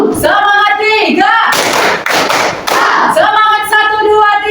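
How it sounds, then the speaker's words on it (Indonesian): Classroom 'tepuk semangat' hand-clapping ice breaker: bursts of rhythmic claps between stretches of voices chanting, loud and near. "Tepuk semangat, 1, 2, 3."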